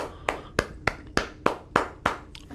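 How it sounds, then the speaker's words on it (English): Slow, evenly spaced claps at a football team press event, about eight distinct hand claps in a steady rhythm, close and clear with no voices over them. "coordinators a round of applause."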